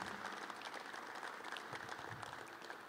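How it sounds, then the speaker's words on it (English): An audience at a press conference applauds, steady and fairly faint throughout with no pause. "if you join me in a round of applause for our VIPs, dignitaries"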